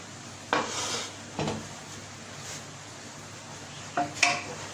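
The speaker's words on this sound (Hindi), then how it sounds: "Now I open the pressure cooker." Metallic clanks and scrapes of a pressure cooker of mutton karahi being handled and opened, a few sharp knocks spaced apart with a soft hiss between them.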